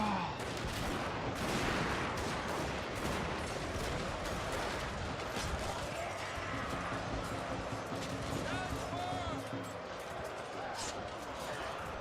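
Rifle volleys rattle across a battlefield in the strategy game Total War: Fall of the Samurai, with dense overlapping gunfire crackling continuously alongside steady background battle noise, and someone talking over it.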